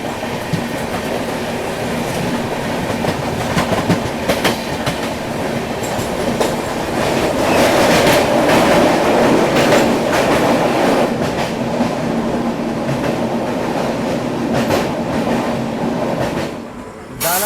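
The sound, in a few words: Northeast Express train running, Superfast Express departing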